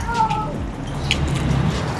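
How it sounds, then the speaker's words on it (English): A wild kitty meows briefly and faintly near the start, its thin cry set against low background rumble and murmur during a walk-through of multifamily buildings. "He's a wild kitty."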